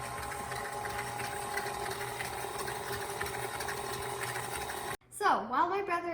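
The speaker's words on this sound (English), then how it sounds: "We're going to put this in the mixer and start it on a low speed." An electric mixer whirs steadily at low speed through brownie batter, giving a constant motor drone that cuts off abruptly near the end, after which a voice speaks.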